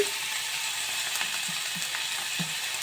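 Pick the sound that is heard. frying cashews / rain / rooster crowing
frying cashews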